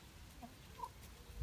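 A few soft chicken clucks, faint and spaced apart against a quiet outdoor background.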